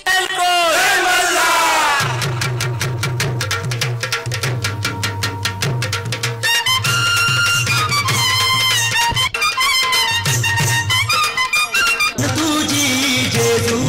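A crowd roars and cheers around the ground at a local tennis-ball cricket semi-final in Mahul Koliwada, loud and continuous over pounding DJ music with a steady thumping beat.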